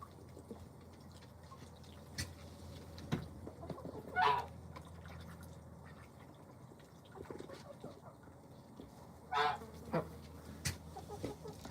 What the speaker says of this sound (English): Turkeys decided to join me up here on the porch.